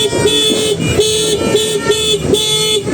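Repeated car horn honks, a series of short, loud toots in a steady rhythm over traffic noise, nearby.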